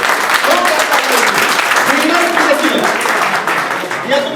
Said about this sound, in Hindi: आप सबकी जोरदार तालियों के लिए।